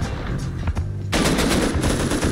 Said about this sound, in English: Turning on turrets.